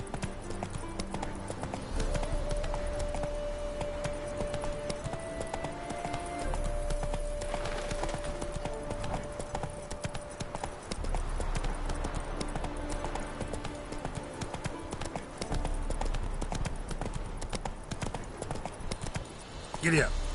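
Horse hooves gallop in The Witcher 3 in a rapid, continuous clip-clop rhythm, mid-distance and steady throughout, with in-game music and spoken lines layered over the hoofbeats.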